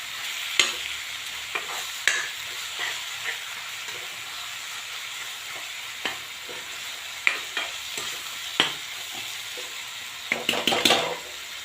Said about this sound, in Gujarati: બે થી 3 મિનિટ જેવું શેકાવા દેશું સરસ પાલકને।